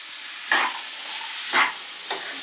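Spring roll vegetable filling seasoned with chaat masala is stirred, giving three distinct scraping strokes spaced about a second apart over a steady hiss, close and fairly loud, with no talking.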